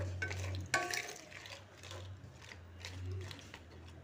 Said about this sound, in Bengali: প্রথমে দিয়ে দেব ধুয়ে রাখা কাঁকড়াগুলোকে ভালো করে মিশিয়ে নেব